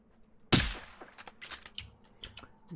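A rifle shot in the video game Generation Zero, firing .243 steel-jacket rounds, cracks sharply once, followed by a string of quieter clanks and impacts fading over a few seconds.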